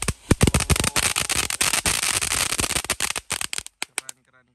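A ground firework fountain sprays and crackles loudly at night, a dense rapid stream of sharp pops and hissing that thins out into scattered cracks before fading.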